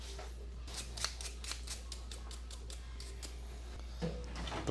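A barber's scissors snip rapidly at a client's hair, a quick run of crisp close metallic clicks over a faint low hum, with no talk.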